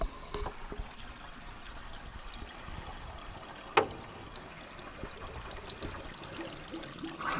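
Coolant drains from the radiator of an old Massey Ferguson 245 tractor during a flush, a steady close trickle and pour that runs continuously with a brief splash partway through.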